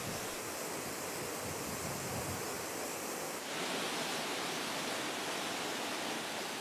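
Spray and rushing water from the Maroto waterfall fill the scene with a steady, dense roar, close and unbroken, with no voices over it.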